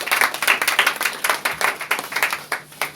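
A church congregation applauding together, brisk irregular claps rising and falling in bursts, fairly close and loud, with no speech over it.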